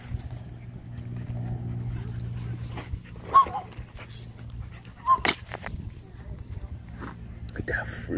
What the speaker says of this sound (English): Growling at the rat.